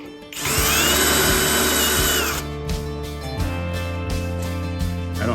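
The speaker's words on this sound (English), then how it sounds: "These make nice clean holes. I call them tornado bits." Power drill with a step bit boring holes in a 1954 Chevy truck: a loud close whine for about two seconds, then slower grinding bursts as the bit cuts through metal.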